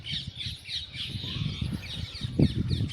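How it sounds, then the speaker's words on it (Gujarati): Raspy parrot squawks in a village in the morning, repeating in short bursts, close by, with some low background noise and a slight thump near the end. "પોપટનો જેવો અવાજ સાંભળો અહીંયા"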